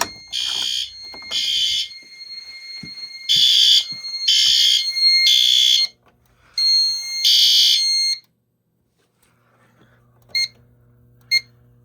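Silent Knight IFP-50 fire alarm panel sounding after a basement stairs pull station is activated: loud repeated electronic horn blasts in an irregular pattern, then two short chirps near the end in a quiet room.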